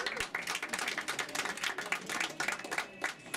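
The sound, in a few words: audience applause at a book signing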